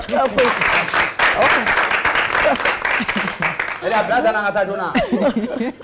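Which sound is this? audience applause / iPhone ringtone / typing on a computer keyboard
audience applause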